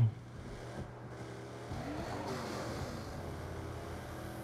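Car engine driving in the Saints Row video game, a steady low hum with a brief louder onset, continuous throughout with no talk.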